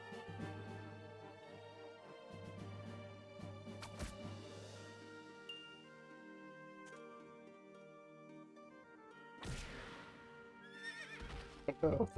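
A horse neighs in the video game Berwick Saga, a faint whinny with hoof clip-clop set among sustained game music tones and occasional sharp effects.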